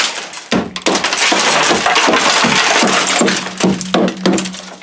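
Car window glass is smashed and crushed, with a dense crackling, splintering burst and repeated sharp impacts and crunches over several seconds, close and loud.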